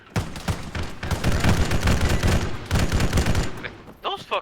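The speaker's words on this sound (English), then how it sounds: "Heavy machine gun fire southeast." Heavy machine gun fire in a military shooter video game: loud, sustained, rapid bursts for several seconds, then a short final burst with a brief voice at the end.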